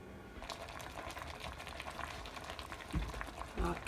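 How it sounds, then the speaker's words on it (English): Apples boiling and simmering in a covered pot of water on the stove, a steady bubbling hiss with soft rattles and a couple of brief knocks near the end, alone without talk. "bring it to a boil, and then simmer until the apples are tender"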